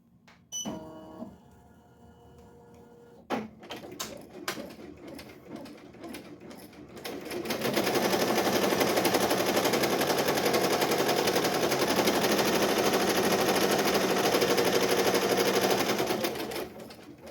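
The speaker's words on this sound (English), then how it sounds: "what it's doing right now is that it's embroidering the end caps of the puff" An embroidery machine stitching the end caps of a puff design runs at a loud, fast, steady rattling clatter after a few scattered clicks and taps, continuing until the end.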